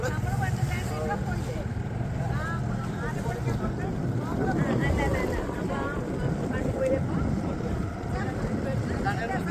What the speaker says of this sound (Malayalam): നമ്മള് ബോട്ട് യാത്ര തുടങ്ങി